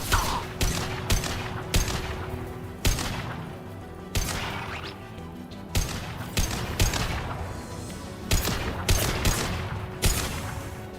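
Gunfire in the video game Mass Effect 2 cracks out in sharp, loud bursts, single shots and short volleys spaced irregularly about every half second to second, with echoing impacts between them.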